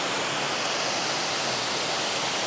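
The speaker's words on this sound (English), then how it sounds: "You can see over here there's a waterfall coming down as well" Kondilla Falls after a massive rainstorm roars as a steady, dense wash of falling water, loud and unbroken from start to finish with no other sounds.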